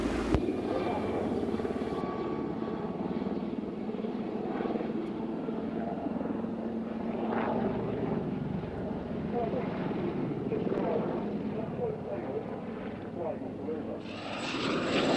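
Aircraft engines drone steadily at a military airfield airshow at Waddington, a constant loud rumble with whining tones, and radio-style voices talk over it throughout.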